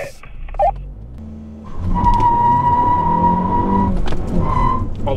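A 2021 Mazda3 6MT and a Kia Forte5 GT 6MT launch together in a drag race, engines surging loudly from about 1.7 seconds with a sustained tire-squeal tone of wheelspin, steady and close, then easing near the end.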